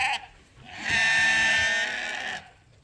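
A sheep bleats loudly and close by, one long wavering call after a brief fainter sound.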